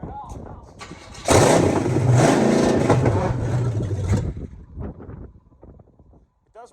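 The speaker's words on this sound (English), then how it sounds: "We are ready to fire it up." An abandoned military truck engine cranking and firing up, a loud rough roar for about three seconds that sputters down, with people talking nearby.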